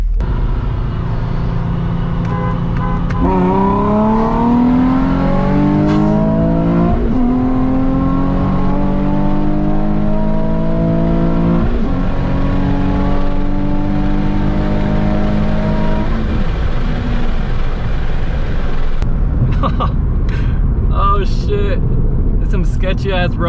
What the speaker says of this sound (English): that was a 30 roll second gear